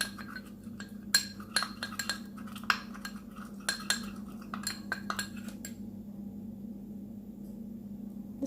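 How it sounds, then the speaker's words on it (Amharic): A spoon stirs turmeric into a potato face mask in a small bowl, giving a quick run of bright metallic clinks and taps for several seconds before the sound drops to near silence. "ይሄንን ሩብ ማንኪያ እርድ አድርጌ እንደዚህ ሚክስ አደርገዋለሁ ማለት ነው"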